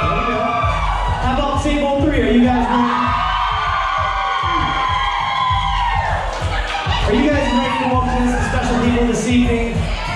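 At a wedding reception, guests at table two erupt in loud, sustained cheering and whooping, a dense crowd roar rising and falling over pulsing DJ dance music with a steady thumping beat.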